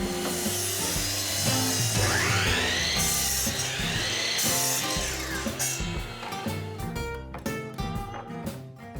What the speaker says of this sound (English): The laser on this miter saw makes it easy to align the cut.